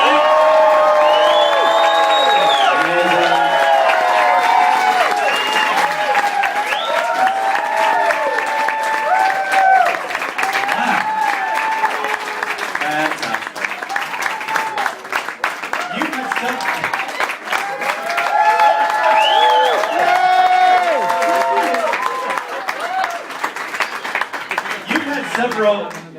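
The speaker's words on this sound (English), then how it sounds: "let's give her a huge warm round of applause for Melanie Singh." Studio audience at a TV chat show gives Melanie C a long round of applause with cheers and whoops, loud dense clapping sustained throughout, with voices rising above it.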